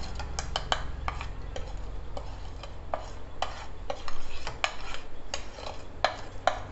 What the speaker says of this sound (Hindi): अब एक मैं बर्तन ली हूँ, इसमें सब डाल देंगे।